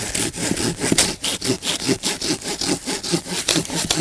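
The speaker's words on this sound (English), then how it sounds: "Just see how well it saws on this, what I believe is poplar." A long-bladed folding saw cuts through poplar wood in quick rhythmic strokes, each push and pull giving a raspy scraping burst, about a dozen strokes up close with no talking.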